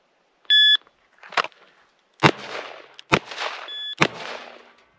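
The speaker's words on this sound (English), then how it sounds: "Okay, last run shooting the 44 mag." .44 Magnum handgun on a timed shooting run: a shot-timer beep, then several sharp, loud gunshots a second or so apart, and a second beep near the end.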